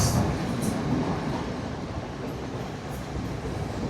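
A train in Sri Lanka rumbles along steadily from inside the carriage, a continuous loud roar of wheels and rail noise with faint high squeals near the start.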